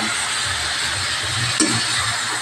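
Onion sautéing with chicken in a pan, a steady close sizzle with light stirring and a brief clatter partway through.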